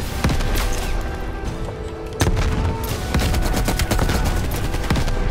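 Dense gunfire rattles through a firefight in the Call of Duty Cold War video game, with rapid shots and heavier booms mixed in, loud and continuous throughout with no voice over it.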